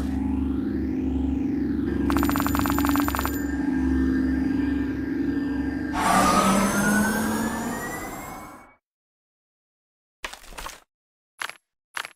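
A wailing emergency siren sweeps up and down over a rumbling vehicle engine in the Kick the Buddy game. It stays loud and steady for about eight seconds, then cuts off, followed by a few short bursts of sound.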